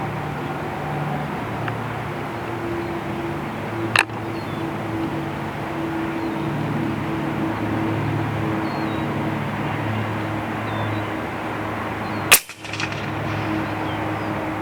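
Two sharp distant reports from a .224 Noble rifle firing at long range, one early and one near the end, each a brief crack over a steady low outdoor hum with faint rumbling.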